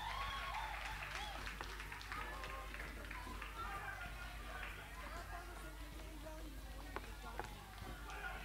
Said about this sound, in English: Please clap for Winifred.